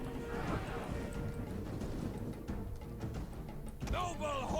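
Horse hooves clip-clop steadily in a Rome 2 Total War battle, with a brief whinny near the end over busy game ambience and background voices.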